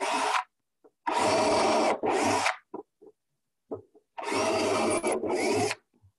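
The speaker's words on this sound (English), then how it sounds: "Let me drill some pilot holes" A power drill bores pilot holes into lumber for a wooden raised garden bed, sounding as several short whirring bursts with quiet pauses between them, close and loud.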